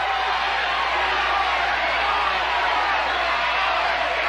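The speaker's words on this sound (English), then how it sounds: "The crowd is booing" Game show studio audience booing at a pricing game, a dense, steady crowd roar that holds loud and unbroken for the whole stretch with no distinct individual voices.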